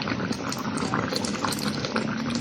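Chicken afritada stew with potatoes and vegetables boiling in a pot, a steady close bubbling and simmering that stays even throughout with no talking.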